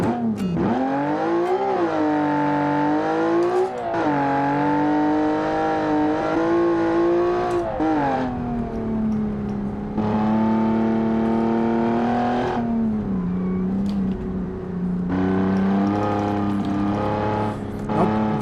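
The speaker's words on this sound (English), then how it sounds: "you could hear that it sounds like we're inside the car now, so inside a closed one" Rally car engine in a racing video game set on Italian city streets, heard from inside the closed cabin: a loud, continuous drone that rises and drops with repeated revving and gear changes, alone with no talk.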